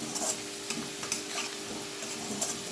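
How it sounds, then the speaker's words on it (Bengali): Potatoes fry in a pan and are stirred, giving a steady sizzle broken by repeated scraping strokes of a spoon, close and clear with no talk. "আলুটা প্রায় ভাজা হয়ে এসছে আর একটু ভাজা করে নেবো"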